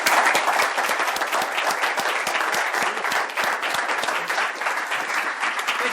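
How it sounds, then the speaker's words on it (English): Lecture hall audience giving a warm welcome to Dr. John Hagelin, dense sustained clapping from many hands, loud and continuous throughout with no voices over it. "So please give a warm applause to Dr."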